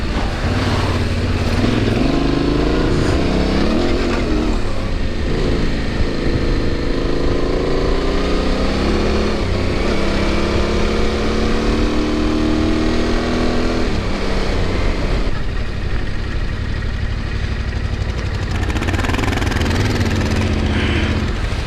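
A Yamaha Tenere 700 motorcycle engine roars steadily and loud throughout while riding off-road, revving up and down, with no talking.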